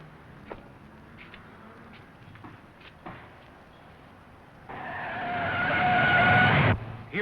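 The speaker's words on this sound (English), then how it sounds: "Here comes that same car." A 1940-era car skids with a long, loud tire squeal that rises after a few seconds of quiet street background with scattered knocks, then cuts off abruptly.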